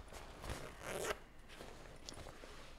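A zipper on a black bag is pulled open in a few quick, close raspy bursts, quiet and with brief rustling between them, in a still room without talk.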